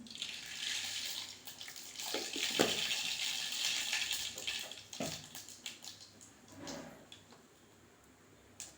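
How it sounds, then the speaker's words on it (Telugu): Mustard seeds sizzle and spatter in hot oil for a Telangana-style ridge gourd curry, a soft, hissing crackle with a few sharper pops, fairly faint and close. "ఆయిల్ అయితే వేడెక్కింది చూడండి చిలకర ఆవాలు వేస్తున్నా"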